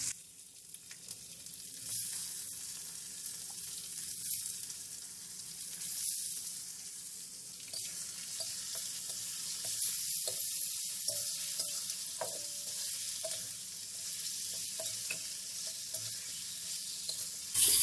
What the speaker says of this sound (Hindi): लहसुन के अंदर भून लेंगे।